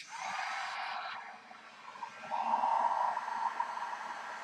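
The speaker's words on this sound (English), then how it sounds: "Now, we'll take the heat gun and do the same thing." A heat gun blowing hot air onto craft foam, giving a steady, airy hiss with a whining tone that shifts and intensifies midway, close and moderately quiet, with no talking.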